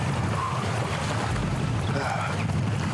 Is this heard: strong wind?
yes